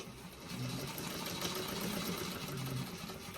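A sewing machine basting a seam at a long stitch length of 5 while making a Shamballa Molly bag, its rapid steady whirring clatter running close and continuous throughout.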